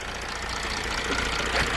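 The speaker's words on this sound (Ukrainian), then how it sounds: "Ось так має працювати двигун." A warmed-up Mercedes W211 engine idles with a steady, even rumble and light knocking, continuous and close by.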